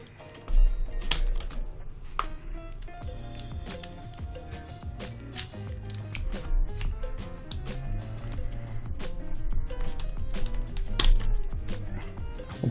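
Plastic edge pieces are pried out of a Rubik's 4x4 cube being modified into a Siamese cube, giving sharp clicks and snaps at irregular intervals over a steady low background hum.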